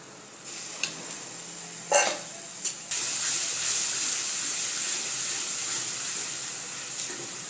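Yogurt and masala sizzling loudly as they are stir-fried in oil with onion for dum aloo, a few sharp stirring clatters early and then a constant bright hiss, with no voices.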